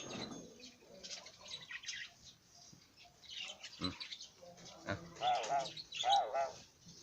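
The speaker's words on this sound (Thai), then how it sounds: "ฟังเสียงเอาว่านกมันร้องยังไงนะครับ" Birds chirp and call intermittently at moderate distance, with brief bursts of song growing a little stronger toward the end, over faint background noise.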